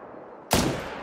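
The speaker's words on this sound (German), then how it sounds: "Und dann haben wir hier ordentlich Wisent geschossen." A single loud gunshot in theHunter: Call of the Wild, fired while hunting wisent (European bison), bursting in abruptly after a quiet ambient stretch and ringing on with a long echoing tail.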